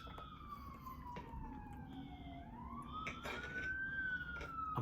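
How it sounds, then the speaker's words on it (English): Emergency vehicle sirens wail outside, a distant, faint, slowly rising and falling tone heard through a room with low background rumble. "Ignore the sirens."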